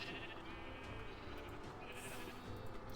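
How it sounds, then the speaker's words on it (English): Sheep bleat in the video game A Township Tale, with faint, drawn-out calls heard under a steady background hum. "So now we have a little bit of every sheep"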